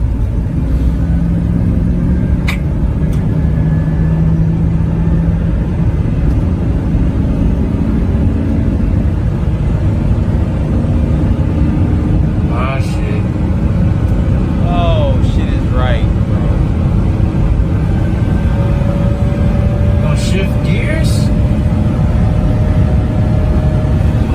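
A donation car bought at a Copart auction idles and drives at low speed with a steady engine rumble. Someone speaks over it at times.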